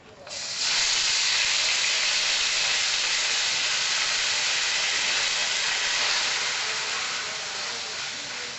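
Chicken pieces dropped into hot oil in a pan burst into a loud, steady hiss of frying that begins abruptly and holds evenly, easing only slightly toward the end, close by with no talk.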